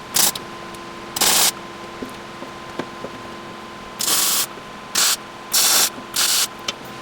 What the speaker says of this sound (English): I'm going to throw a couple of tacks on here.